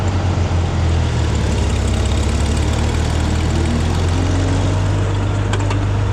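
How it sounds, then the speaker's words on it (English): A 706 tractor engine idles steadily with a deep, even rumble and a faint knocking pulse, running close and constant with no voices over it. "It's our 706 tractor."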